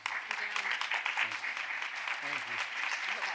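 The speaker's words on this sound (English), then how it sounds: "Let's give them a round of applause." Audience applause fills a board meeting room, a steady, dense patter of many hands clapping for the whole stretch, with a voice speaking over it at moderate level.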